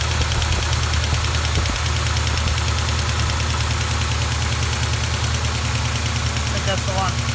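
A Duster 360 V8 idles loudly with a steady rapid ticking from a noisy lifter riding over the engine's low rumble, recorded close under the hood with a voice briefly talking.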